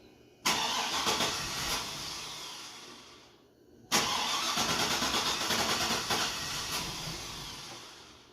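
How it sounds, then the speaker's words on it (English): A Vortex Max race truck engine cranks and fires twice in a row, each start jumping to a loud roar that slowly settles before it cuts out or drops back, heard up close with no voices. "So he gonna come in, we're gonna start it, see what it do"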